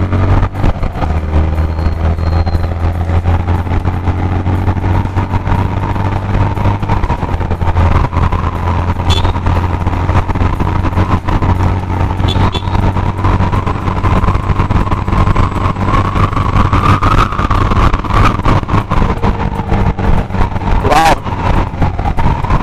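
A Yamaha FZ-X motorcycle rides along a test stretch, its engine droning steadily and close up throughout, with a rising whine of speed and a few brief clicks and knocks over the constant rumble.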